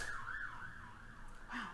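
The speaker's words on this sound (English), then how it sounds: "Fire brigade just went zooming past. There's sirens on." A UK fire engine races past with its siren on, a rising and falling electronic wail sweeping up and down in pitch, moderately faint against a steady background with no voices.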